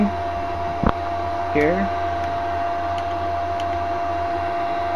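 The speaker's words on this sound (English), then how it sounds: "blow directly through the wind shear. So here we go, guys. That's my defrost system, homemade, of course." A homemade windshield defrost blower runs on a John Deere X300 lawn tractor, giving a steady, close fan hum with a thin whine, one sharp click, and someone speaking briefly.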